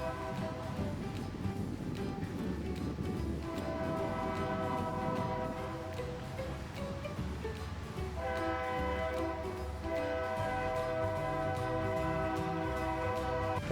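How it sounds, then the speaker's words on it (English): A train rumbles past while its horn sounds in long, steady blasts, fairly loud and continuous throughout. "you can hear a train coming"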